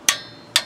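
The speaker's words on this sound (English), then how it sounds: "Click sounds different without that long extension on it." A quarter-inch drive torque wrench gives two sharp, close clicks about half a second apart as it reaches its set torque on a 6.6L diesel oil cooler job.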